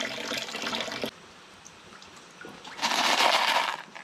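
Water pours off freshly cleaned gemstones, obsidian and iron, in two splashing bursts separated by a quieter trickling pause, close and fairly loud.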